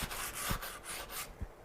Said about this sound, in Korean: 처음에 준비되어 있는 사포를 이용해서 넓은 면과 이 모서리, 면과 면이 만난 이 모서리 부분을 사포를 해줍니다.